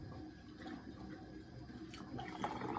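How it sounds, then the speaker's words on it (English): Liquid pours into glass canning jars for homemade ranch style beans, a faint steady splashing trickle that grows slightly busier toward the end, heard alone without talk. "we're going to go ahead and start filling up these jars"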